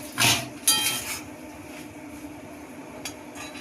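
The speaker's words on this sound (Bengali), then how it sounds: "এবার আমি ঢাকনাটা খুলে একটু নেড়ে দেবো" A pot lid lifted off a pan of cooking banana flower (mocha), followed by a couple of short metallic clanks and scrapes from stirring, then quieter kitchen background.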